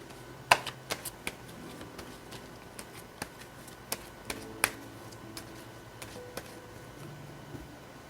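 Tarot cards being shuffled and drawn, with scattered sharp card snaps and soft riffles spread over several seconds, close and fairly quiet against a faint hum, with no talking.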